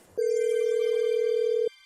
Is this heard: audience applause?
no